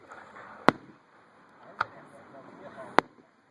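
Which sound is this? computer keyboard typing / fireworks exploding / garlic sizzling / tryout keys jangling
fireworks exploding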